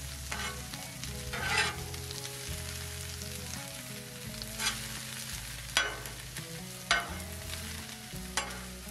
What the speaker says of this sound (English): we'll take this cabbage I've already cut up, place it on the griddle